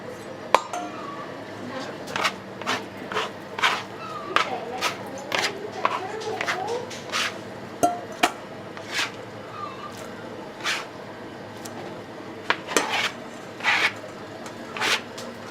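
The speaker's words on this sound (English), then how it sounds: "He just rocks that sword back and forth, and literally in just minutes, he's gone from a coarse chopped vegetables to a really fine mince of tomato and cucumber" A large knife rocks back and forth on a board in a Jerusalem eatery, mincing tomato, cucumber and parsley into sharp, irregular taps and clicks over a low background murmur of voices.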